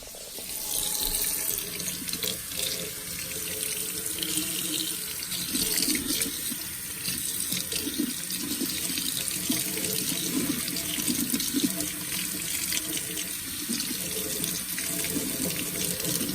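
Water runs steadily from a tap into a sink while a part of a Bissell Crosswave floor cleaner is rinsed, a continuous close splashing stream with no talk over it.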